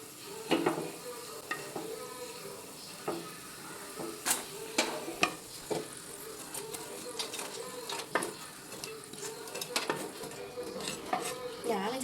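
French fries frying and being stirred in oil in a home kitchen, with a steady background sizzle broken by repeated sharp scraping and clinking strokes of a utensil against the pan, close and moderately loud, no talking.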